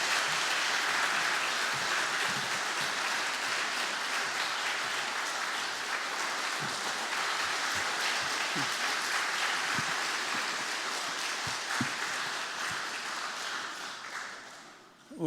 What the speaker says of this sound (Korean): 우리 목사님을 환영하는 박수로 우리 목사님 맞이하도록